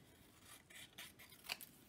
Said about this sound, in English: Let me use my sticky scissors.